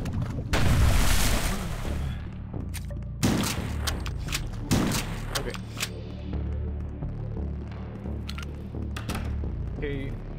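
Rocket launcher blasts and explosions in the HROT video game: two or three loud booming bursts, each trailing off into rumbling debris, with in-game noise between them.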